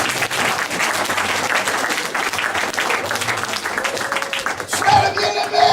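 A church congregation breaks into sustained, dense applause and clapping through the whole stretch, loud and steady, with a few voices rising near the end.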